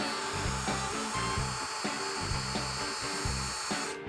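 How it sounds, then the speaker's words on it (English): Steady mechanical whir of an electric drill running continuously on an engine to build oil pressure, with a rhythmic pulsing undertone, moderately quiet and uninterrupted throughout. "I'm gonna get electric drill on this thing."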